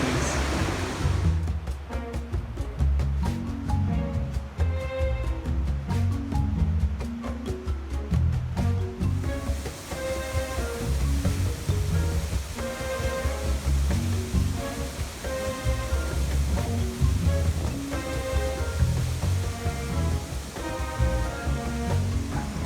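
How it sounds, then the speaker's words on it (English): Waterfalls on the Annapurna Circuit in the Himalayas pour with a continuous, loud broadband rush of falling water, steady throughout with faint rhythmic clicks early on and no talk. "So many waterfalls."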